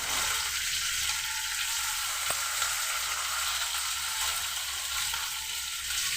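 Curry leaves hit hot oil in a pan and fry with a steady, loud, broadband sizzle that holds evenly throughout, with no one speaking.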